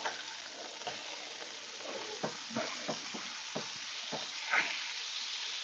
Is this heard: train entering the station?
no